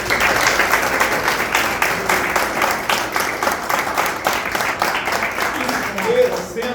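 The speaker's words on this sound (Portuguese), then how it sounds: "peço uma salva de palmas para a diretoria," A hall full of people claps steadily for the newly elected board at a state federation's electoral congress, the dense, sustained applause filling the room with a voice briefly audible near the end.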